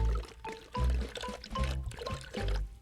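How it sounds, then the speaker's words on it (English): Water pours and splashes out of buckets in a cartoon, coming in repeated gushing bursts, fairly loud, with short pauses between pours. "It kept on pouring out the water."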